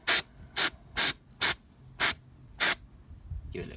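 Six short, sharp hisses of a spray can in a steady rhythm, each about a quarter second, close by with quiet pauses between, spraying a bolt during a Citroën C3 Picasso front wheel bearing replacement.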